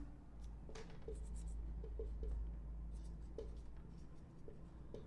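A pen or marker writing the words "sit down" during an English grammar lesson, soft intermittent scratchy strokes over a steady low hum, fairly faint, no speech.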